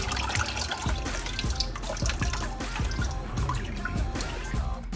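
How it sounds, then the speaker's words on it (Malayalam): Tap water running and splashing over one kilogram of bone-in beef being washed in a sink, a continuous close trickle with irregular knocks and splashes. "നന്നായിട്ട് വെള്ളം ഒഴിച്ചൊന്ന് കഴുകി ഊറ്റിയെടുക്കണം"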